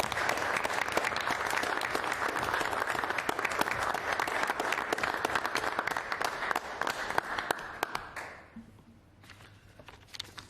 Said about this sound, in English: I'd like to have a round of applause for Gary, please.